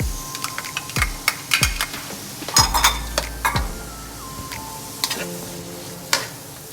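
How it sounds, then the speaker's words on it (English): Onion, carrots and garlic stir-fried in olive oil in a pan, heard as irregular sharp clicks and scrapes of a utensil against the pan with a faint sizzle underneath. "Stir fry a little bit with the carrots"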